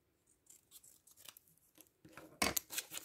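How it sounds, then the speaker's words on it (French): Paper for an Easter card is trimmed again with scissors: quiet, scattered snips and rustles at first, then a few louder, crisper cuts close by near the end, with no talk. "Je le redécoupe pour éviter que ça colle dans la machine."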